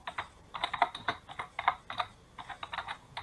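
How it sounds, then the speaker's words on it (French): Rapid keystrokes clatter on a computer keyboard in quick irregular bursts, close and clear, with no one speaking. "J'entends le clavier."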